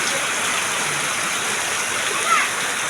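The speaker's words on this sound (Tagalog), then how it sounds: "Lalo lumakas yung ulan." Steady, heavy rain hisses continuously, close and loud, like a downpour pattering on surfaces with no break.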